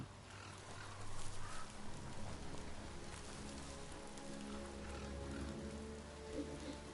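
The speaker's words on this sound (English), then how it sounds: "Wait a minute. Rain?" Rain falls in the Biomutant video game, a steady soft hiss of drops on surfaces that stays constant throughout, faint and even with no talk over it.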